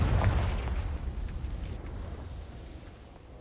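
A Confringo fire spell in Hogwarts Legacy strikes dry vines with a deep, booming burst, then a low rumbling crackle of flames that fades over a few seconds, with no voices.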